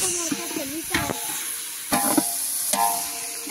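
Onion frying in a pot for chicken biryani gives a steady soft sizzle, broken by a few louder scraping stirs of a utensil against the pot.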